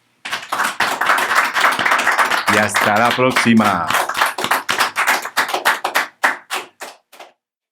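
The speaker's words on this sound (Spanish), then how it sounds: "Bueno, un aplauso para el maestro." Hand claps ring out in a close, small-room setting after a baroque music radio talk segment, a person speaking over the start before the claps thin into separate, spaced slaps that stop.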